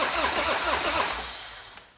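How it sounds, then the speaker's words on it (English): A chopper motorcycle's engine is cranked over during wiring work, a short, loud, close churning whir that fades away over about two seconds. "Motor turns over."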